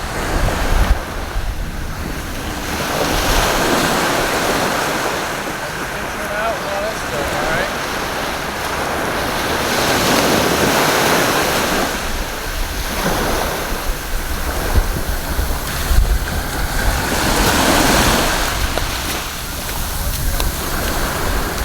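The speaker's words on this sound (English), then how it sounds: "Y'all hear the ocean?" Ocean waves at a Maui beach in Hawaii roll in and break in repeated surging swells, loud and close, with wind buffeting the microphone between crashes.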